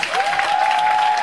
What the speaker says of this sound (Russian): здесь можно поаплодировать громко